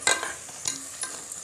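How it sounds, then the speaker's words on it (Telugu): Chopped onion pieces dropped into hot oil in a home kitchen pan, giving a soft crackling sizzle with a few brighter bursts as they are stirred, fairly quiet and close. "చిట్పట్లాడిన తర్వాత అయితే మనం కట్ చేసి పెట్టిన ఎర్రగడ్డ ముక్కలను అయితే వేసేద్దాము"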